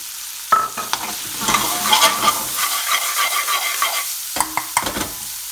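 One medium onion sizzles and crackles in a hot pan, with clattering stirring strokes from a spoon throughout, loud and close, no talking.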